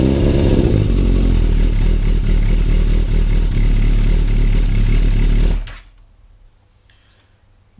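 A Yamaha YZF 600 Thundercat motorcycle engine idles while warming up on choke, a loud, close, steady throbbing rumble that cuts out abruptly near the end, leaving near silence with faint background sounds.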